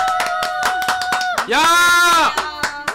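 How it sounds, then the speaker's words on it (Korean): Sharp, close hand claps in a steady rhythm, a dozen or so crisp strikes, with a voice shouting loudly across the middle and more claps continuing after. "자 박수로 받아주세요"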